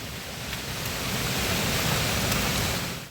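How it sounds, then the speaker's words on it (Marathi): Heavy rain falls in a village as a steady, dense broadband hiss. It is fairly close and constant, with no voices. "पाऊस पण जास्त येतोय."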